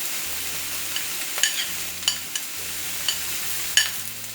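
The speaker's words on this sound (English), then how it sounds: "let's add the onion and the garlic" Onion and garlic hiss continuously in a hot pan, with a few sharp scraping stirs breaking through the steady sizzle and a faint low hum underneath; nobody speaks.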